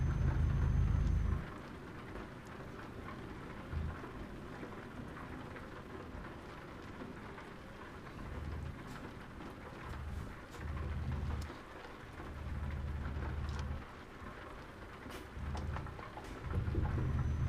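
Steady rain pours on a moving vehicle while driving, with low thunder rumbles swelling and fading several times beneath the constant wash of raindrops.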